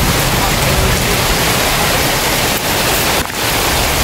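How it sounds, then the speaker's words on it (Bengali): Heavy monsoon rain pours steadily in a Sundarbans village during a thunderstorm, a loud, dense, continuous wash of water with no letup. "ভরপুর বৃষ্টি সুন্দরবনে"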